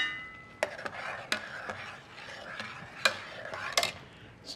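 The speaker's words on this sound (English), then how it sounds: "Stir that around." Corn chowder enriched with half-and-half, salt and black pepper being stirred in a pot, with a steady wet churning and several sharper spoon knocks against the pot, close and moderately loud, no talking.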